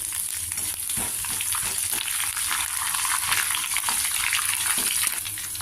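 Chana dal, cumin seeds and chilli pieces tempering in hot oil, a dense continuous sizzle with light crackles and faint stirring close to the pan, with no voices.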